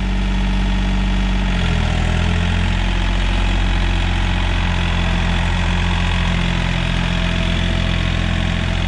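A John Deere 5036 EN tractor engine runs loud and steady in a field, rising in pitch as it is revved about a second and a half in and then holding a strong, even drone.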